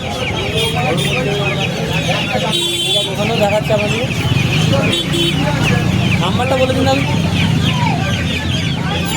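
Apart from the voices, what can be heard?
chickens clucking at a hen market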